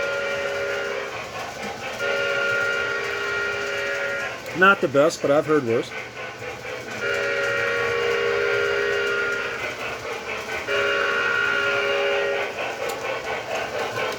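A Williams brass Camelback model steam locomotive's whistle sounds in a few short pulsing blasts midway, over a steady electric hum and running noise, with someone talking before and after.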